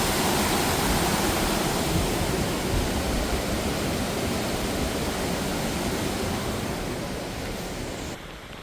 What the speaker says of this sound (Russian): Ветер, друзья, задувает прям.